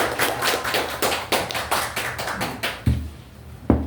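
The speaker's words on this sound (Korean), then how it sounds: "박수 부탁드립니다." An audience at a report meeting gives a short burst of applause. Rhythmic claps fade out, then two louder single thumps follow near the end.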